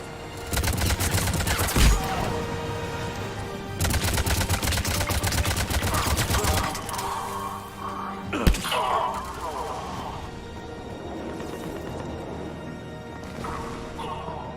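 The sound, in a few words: gunfire during heavy attack in Mass Effect 3 video game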